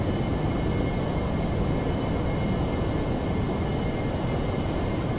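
An AV-8B Harrier jet engine in the DCS World flight simulator holds a steady, loud, broadband roar under sustained throttle, continuous and unchanging for the whole stretch with no voices over it.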